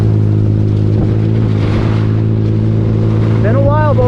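A turbocharged Mitsubishi 3A92 engine in a K03 turbo buggy runs loud and close with a steady droning hum on deep sand trails, revving briefly near the end, with a voice talking over it.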